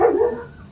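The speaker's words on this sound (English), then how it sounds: "Excuse my dog in the background." A single dog bark heard close by and indoors, a short harmonic yelp that fades quickly with no talk over it.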